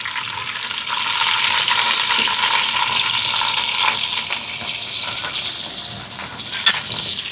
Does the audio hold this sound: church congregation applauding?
no